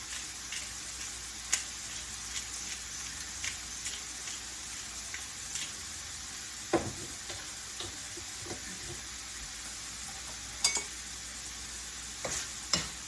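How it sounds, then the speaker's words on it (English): Meat seasoned with salt and black pepper is stirred in a pan for enchiladas, giving a faint steady sizzle broken by occasional scraping clicks of the utensil. "And just mix it around so that flavor can incorporate with the meat."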